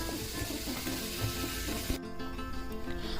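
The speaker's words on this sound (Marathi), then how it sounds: "ड्रायफ्रुट्स असे छान तळून घ्यायचे तुपामध्ये" Dry fruits frying in hot ghee, a busy crackling sizzle with stirring sounds for about two seconds, then the sizzle drops away to a quieter, thinner hiss.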